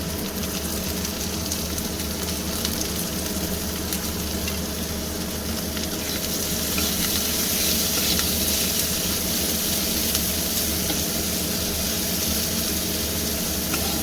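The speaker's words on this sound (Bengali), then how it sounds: "পেঁয়াজটা একটু লাল করে ভাজবো" Onions with a little salt frying in oil for an egg and potato-pointed gourd curry, a steady broadband sizzle and hiss running unbroken throughout, close and even, with no talking.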